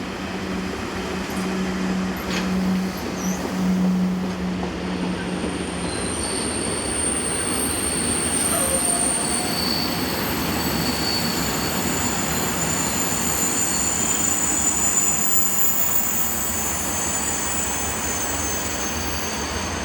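A Swiss train headed by an Re 6/6 locomotive, its wheels squealing in a steady high whine over a continuous loud rumble of rolling railcars, heard alone throughout.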